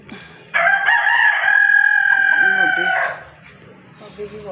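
A rooster crows loudly and close for a long, drawn-out call, followed by softer clucking and scattered fowl noises.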